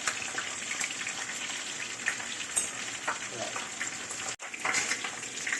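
Okra (lady finger) fries in a pan with a steady, dense sizzle and crackle that carries on throughout, with brief spatters and a sudden short break near the end.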